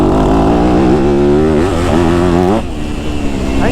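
A street-legal dual-sport dirt bike rides a motocross track, its engine close and loud as the revs climb, waver and drop, then pick up again.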